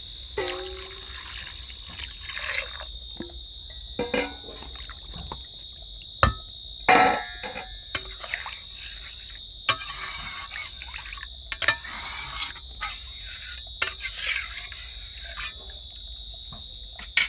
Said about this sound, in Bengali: আগে থেকে যে জলটা গড়িয়ে রেখেছিলাম ওই জলটা দিয়ে দেব